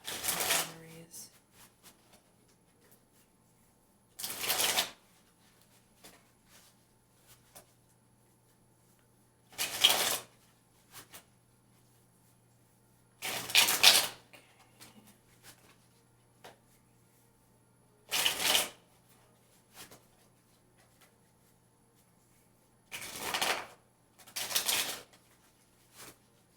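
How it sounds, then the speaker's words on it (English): A deck of tarot cards being shuffled in several short riffling bursts, spaced a few seconds apart with quiet gaps between, close and crisp. "apparently that deck needs shuffled again."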